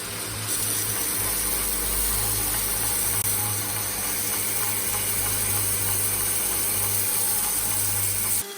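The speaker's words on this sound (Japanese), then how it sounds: "削ってサイズを微調整します" A grinder shaping a Damascus steel knife blade of N690 and 440C to fine-tune its size. The grinding is steady and continuous for about eight seconds, with a high whine over a rough hiss, then it stops abruptly.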